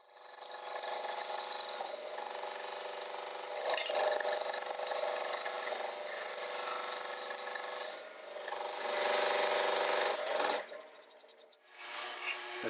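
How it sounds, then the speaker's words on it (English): A scroll saw cuts excess wood from a wooden fidget spinner body, a continuous loud buzzing whine with shifting intensity as the blade works through the wood, easing off briefly near the end. "The next step is to remove the excess wood at the scroll saw."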